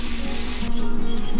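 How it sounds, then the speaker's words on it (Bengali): Potatoes frying in oil left over from paneer give a brief, loud, close sizzle with a low humming tone running underneath, and no speech. "আগে আমি পনির ভাজলাম, তার পনির ভাজার তেলে আলুগুলো ভেজে নিচ্ছি।"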